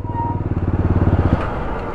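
A motorcycle engine idles nearby with a fast, steady pulsing throb while the bike is being repaired, then cuts out near the end.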